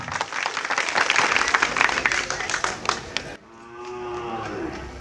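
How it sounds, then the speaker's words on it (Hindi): A crowd bursts into loud, dense applause to welcome MLA Akela Yadav at a community hall inauguration in Padma panchayat. The clapping runs for over three seconds, then cuts off abruptly into a quieter, tonal background. "आप विधायक श्री अकेला यादव को एक बार जोरदार ताली से स्वागत करें"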